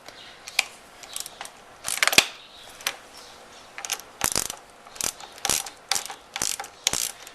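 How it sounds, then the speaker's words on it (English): A ratchet wrench with a 10 mm deep socket loosens a motorcycle clutch lever bolt during a Suzuki V-Strom hand guard install, giving close, crisp clicking bursts in a steady back-and-forth rhythm with short pauses between strokes. "So this is a 10 millimeter bolt. So we got a 10 millimeter deep socket here on the bottom."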